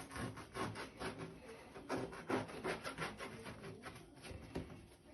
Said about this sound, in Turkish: Onu çok ufak yiyebileceğimiz kadarını kesiyoruz.